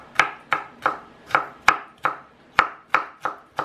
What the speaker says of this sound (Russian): Сейчас мелким кубиком я порежу соленый огурец.